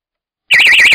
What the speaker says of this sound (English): So that's the Energizer alarm.